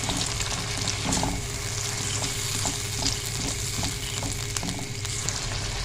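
Ground cumin and coriander fry in a karahi for egg masala, giving a dense, continuous sizzle up close while a spoon stirs through with light, regular scrapes.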